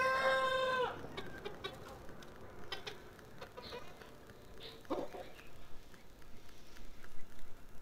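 Jungle fowl sit in a coop in the morning sun, a loud crow opening before scattered soft clucks and small knocks follow, faint and close against quiet background noise.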